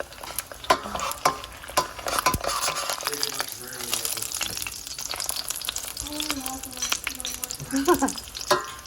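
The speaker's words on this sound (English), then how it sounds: "I'm going to fry it and brown it" Mexican pizza tortillas fry and brown in a pan with steady crackling sizzle, punctuated by sharp clicks and scraping from a utensil, while a person speaks intermittently over the cooking.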